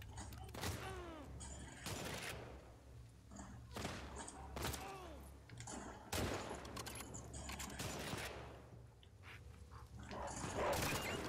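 Bursts of gunfire in The Last of Us Part II crack out in several loud volleys, aimed at a barking dog whose yelps and growls sound between and under the shots, with faint talk in the background.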